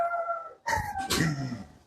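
Dogs howling up close, a sustained tonal wail cutting off briefly and then rising again in a second, rougher howl.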